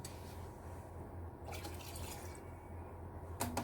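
Two-stroke fuel trickles from a container into a small capped mixing jug, a faint, steady liquid pour with drips over quiet background, ending in a brief clatter.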